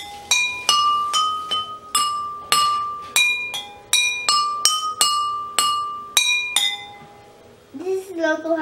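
Loud, bright glass tapping in a steady beat, each strike ringing clearly, ending with a brief different sound at the close.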